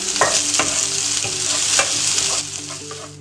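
Chopped tomatoes sizzle and fry in a hot pan for a Malabar chicken dish, with a steady close crackle, several stirring scrapes and clinks, the sizzle easing toward the end; no talking.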